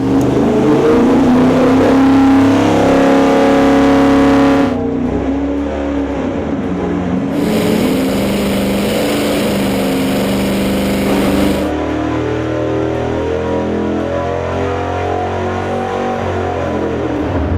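Rat rod engine with dual carburetors running on a dynamometer, slightly rich, producing a loud sustained roar with revs rising and falling throughout, no talking over it.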